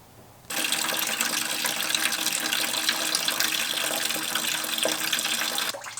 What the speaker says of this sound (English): While that coolant finishes dripping